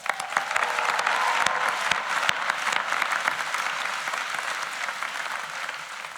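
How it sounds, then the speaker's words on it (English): An audience applauds at a university convocation ceremony, sustained loud clapping from a large crowd that carries evenly through the whole stretch without any speech. "Let's give Stephen another well-deserved round of applause"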